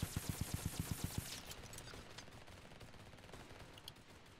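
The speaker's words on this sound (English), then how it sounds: "I can hear those minigun shots." Minigun fire in a Roblox flag wars match sounds as a fast, even run of rapid shots that stops after about a second, followed by faint scattered gunfire in the distance.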